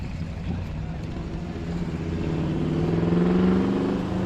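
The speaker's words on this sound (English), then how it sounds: "I'm gonna wait for this loud car to go by." A loud car drives past on a road, its low engine rumble swelling as it approaches and peaks near the end, heard close by from the roadside during a walk.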